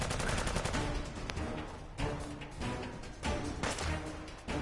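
Gunfire in Fallout 4's Nuka-World comes as rapid bursts of shots with sharp attacks at regular intervals, loud and close, with no talk.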